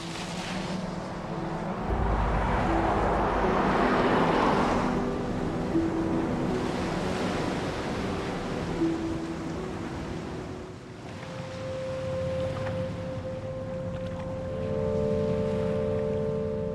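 Ocean waves surge and wash at sea in a continuous broad roar, swelling and easing across the whole stretch, with a low droning hum joining in the latter part.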